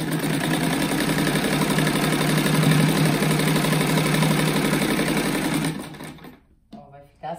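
A sewing machine runs continuously as it stitches a seam on a quilted fabric rug, a steady close mechanical whir that stops abruptly near the end, followed by a few faint handling sounds.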